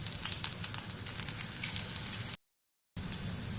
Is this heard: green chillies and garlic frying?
yes